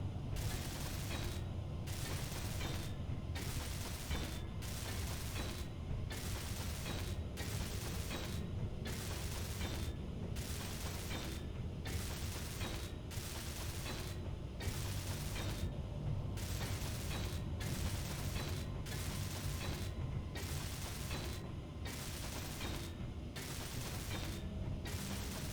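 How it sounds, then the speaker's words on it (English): Blocks being welded in the Space Engineers video game, a steady, dense mechanical grinding hum broken by regular rhythmic pulses at roughly one-second intervals, continuous and unbroken throughout. "I'm just going to weld all these up"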